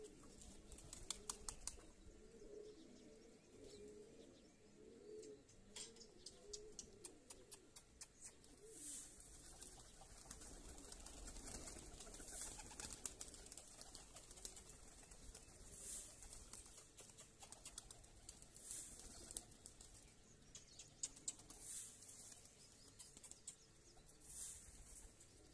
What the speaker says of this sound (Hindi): अपने कबूतर तो दाना खा रहे हैं